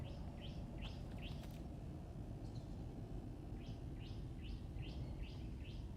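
Video-game birds chirp overhead in short bright repeated calls, first a few quick chirps, then a pause, then a longer run of evenly spaced tweets over a steady low rumble of background noise, with no voices.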